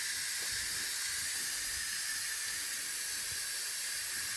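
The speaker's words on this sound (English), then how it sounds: "now I'm going to go ahead and switch the valve on top over to venting again to release all the remaining" A pressure cooker valve switched to venting releases steam in a continuous loud, even hiss that holds steady without a break.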